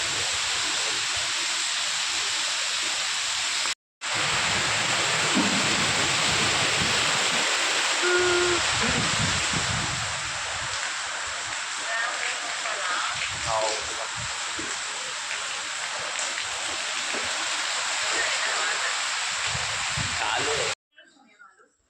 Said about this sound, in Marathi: बाहेरचा पाऊस पण थांबला नाही. पाऊस कंटिन्यू चालू आहे.